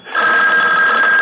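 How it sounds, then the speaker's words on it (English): An old telephone bell rings in a 1974 radio mystery drama, one loud sustained ring that swells in quickly and holds steady throughout. "The phone."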